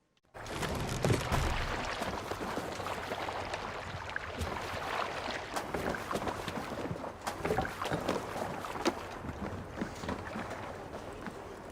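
Viking longship docking in Assassin's Creed Valhalla: water sloshing and splashing against the hull with wind noise and scattered creaks and knocks, moderately quiet and continuous.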